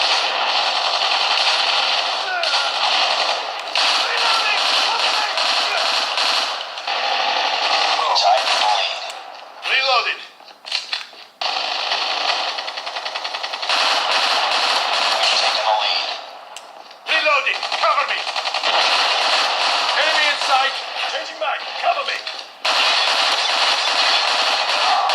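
Gunfire in a cloud-streamed Xbox shooter played on a Samsung Galaxy Tab S7+: repeated bursts of shots and explosive game effects with brief gaps, loud and compressed, with game voices shouting over it.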